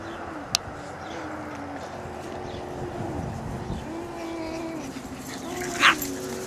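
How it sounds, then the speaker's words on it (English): Puppies play and chase bigger dogs, giving soft whimpers and a yip over a steady background hum, with a sharp click early and a brief high yelp near the end. "Stop chasing the big dogs."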